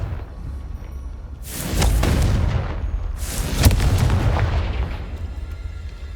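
Two heavy booming blasts from the Confringo blasting spell in Hogwarts Legacy erupt about a second and a half apart, each loud and close with a rumbling tail that lingers.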